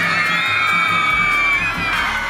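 A crowd of about 2,600 schoolchildren screams and cheers in a gym during a women's college basketball game, Drury Lady Panthers against University of Science and Arts, a loud, continuous high-pitched roar with no pause.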